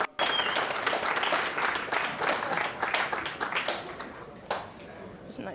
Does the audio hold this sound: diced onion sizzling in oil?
no